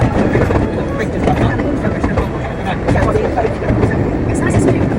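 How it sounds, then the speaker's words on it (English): Longleat Railway train ride at the safari park, heard as a steady loud rumble of the moving train from on board, with continuous clatter and people talking over it. "welcome aboard the Longleat Railway"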